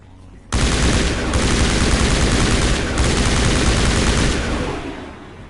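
Sustained, loud gunfire from Mass Effect 1 pours out in a dense, continuous barrage after a brief quiet start. It runs for several seconds with one short break before tapering off.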